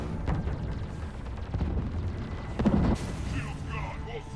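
Heavy booming blasts of Thanix cannons fire in a rapid sequence in Mass Effect 3, amid game sound effects and talking, with one louder impact near the end.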